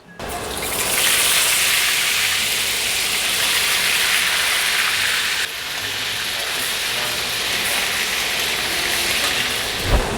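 Steady, loud hiss of pork belly frying in hot oil, continuous broadband sizzling with a brief dip midway, no voices.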